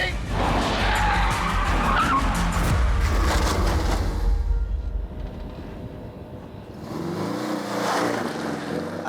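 Porsche 718 Cayman S braking hard from high speed, tyres skidding loudly with a dense broadband screech and engine roar for about four seconds, then quieter, with a brief rise of engine noise near the end.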